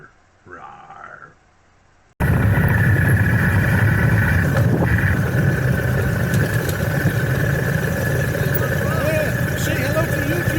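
A motorbike engine runs loud and close, a steady rumbling drone that starts abruptly after a brief quieter stretch with voices at the start.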